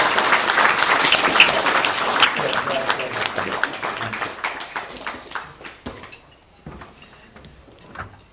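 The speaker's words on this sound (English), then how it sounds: "if you can please join me in giving them a round of applause" An audience claps loudly for a speaker and his wife at a US India relations event, applause starting dense and gradually thinning into scattered claps before fading out.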